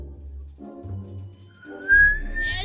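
A whistle sounds in the Back to the Future adventure video game, a thin rising tone that swells and then climbs higher over low background music, with no talking.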